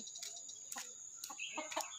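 A hen clucks in short, quiet bursts, four or five soft calls spaced irregularly over a faint steady background hum.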